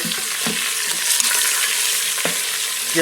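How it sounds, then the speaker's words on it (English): Beef short ribs searing in a pressure cooker, a loud, steady close-up sizzle with a few soft scrapes and shifts of the meat, no speech. "this thing does put a good sear on it"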